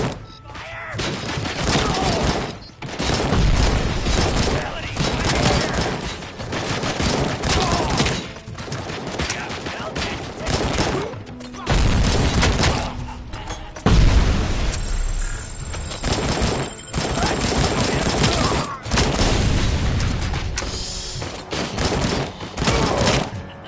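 Video game gunfire, loud bursts of rapid shots and fusillades recurring throughout, punctuated by thuds and booms, with a voice talking between volleys.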